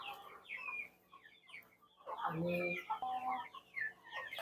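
Several free-range country chickens cluck in short bursts, moderately close, with a louder flurry of calls in the middle and quieter background clucks.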